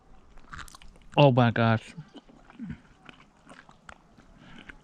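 Someone bites into poutine topped with cheese curds and chews it up close. A voice briefly exclaims early on, then soft, wet, squishy chewing clicks continue quietly.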